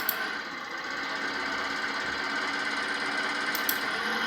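Simulated engine in the Electude training simulator idling with one fuel injector disconnected, a steady, continuous mechanical clatter running throughout at a moderate, even level with no talk.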